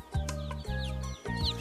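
Newly hatched, fluffy chicks on straw give high thin chirps in quick repeated peeps, close by, over a low steady hum.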